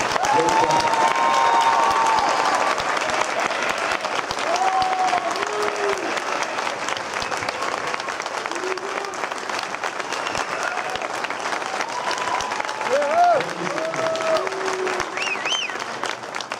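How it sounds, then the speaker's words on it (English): Sustained applause from a large audience honouring graduating seniors of the Downers Grove North Trojan Marching Band, steady dense clapping throughout with a brief swell near the end. "The class of 2014, would you please stand and accept our thanks and applause"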